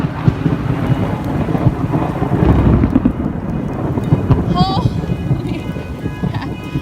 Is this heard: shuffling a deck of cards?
no